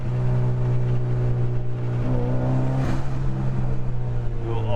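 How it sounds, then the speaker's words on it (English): A Mitsubishi Lancer Evolution 8 with a 2-liter engine and an aftermarket exhaust, heard from inside while driving, a loud steady droning hum with a brief rise in pitch midway. "So, the car sounds okay with this exhaust."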